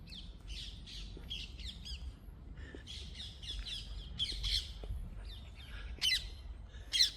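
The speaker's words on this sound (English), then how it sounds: "Peaceful, you can hear the birds in the background," Several birds squawk and chirp at a distance in a cemetery, calls coming in irregular bursts over a quiet outdoor background.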